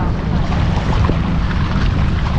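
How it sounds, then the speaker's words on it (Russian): Sea waves and wind rush along a bay shoreline in a continuous, even wash. The wind buffets the microphone throughout, and no one speaks. "И вот волны какие сейчас, посмотрите."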